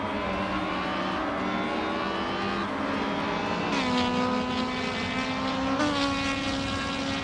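Race cars on a track, an Alfa Romeo 156 GTA among them, the engines a sustained loud whine that climbs in pitch through several upshifts as the cars accelerate past, with no talk.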